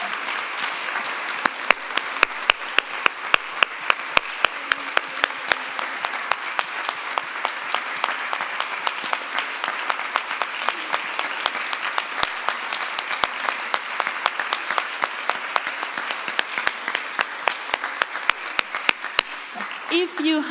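Audience at the Open Science Fair 2023 international conference applauds, a long steady wash of many clapping hands with some sharper nearby claps standing out, continuing for about twenty seconds.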